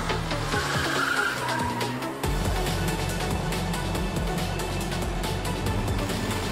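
Racing cars skid with loud, sustained tire squeal and engine roar in a top-down motorsport video game preview, a dense continuous barrage of skids close up, with no talking.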